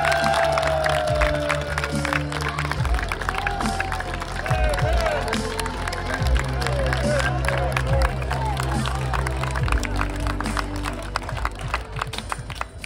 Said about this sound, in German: Applaus für Clemens Fritz und Frank Baumann.